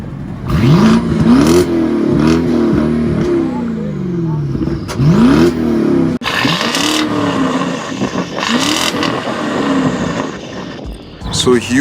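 BMW 650 fitted with a VRSF sports exhaust revs repeatedly, loud rising and falling engine sweeps with sharp blips, close to the microphone, with voices talking over parts of it.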